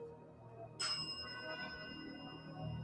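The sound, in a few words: bell ringing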